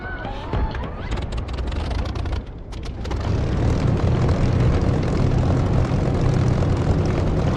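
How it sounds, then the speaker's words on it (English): Propeller aircraft engine in the DCS flight simulator game: a loud droning roar that dips briefly, then swells into a fuller, steady run as the throttle opens. "once the engine is turning over and firing, I flick this lever forward, the fuel mixture lever, and we're running"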